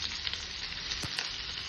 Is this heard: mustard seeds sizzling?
yes